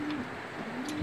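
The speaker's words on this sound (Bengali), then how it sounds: "মাদি কবুতর" A female Afsan grizzle racing homer pigeon gives soft, low coos, faint and close, in a short burst with a quiet bird call near the end.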